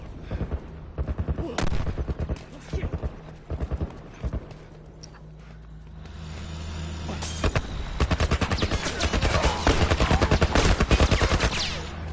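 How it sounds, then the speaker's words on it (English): A military turret fires in The Last of Us video game, bursts of rapid, loud shots in short volleys at first, then a longer sustained stream of fire near the end. "Some kind of military turret."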